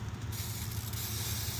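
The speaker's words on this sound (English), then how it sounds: "I think we'll get some spray for the slides." Aerosol lubricant sprays in one continuous close hiss onto the slides of a DAF truck, steady and loud for the whole stretch over a low hum.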